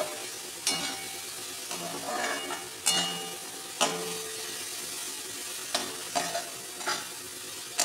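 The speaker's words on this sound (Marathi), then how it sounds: "आता हे आपल्याला चांगलं असं मिरच्याचा कच्चेपणा जाईपर्यंत हे आपल्याला परतून घ्यायचं आहे।" Coarsely ground green chillies being sautéed in a pan for a spicy pitla, a steady close sizzle broken by several sharp scraping stirs of a spoon against the metal.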